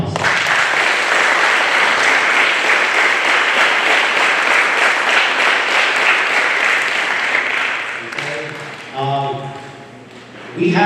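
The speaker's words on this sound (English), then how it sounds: "let's give them a round of applause" Sustained audience applause at a school spelling bee competition, loud and steady for about eight seconds before thinning out, with talk emerging as it fades.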